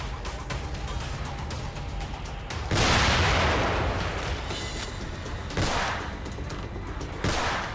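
Gunfire in the survival horror game The Evil Within comes as a few sharp shots with loud booming bursts near three and six seconds over a continuous rumbling game background.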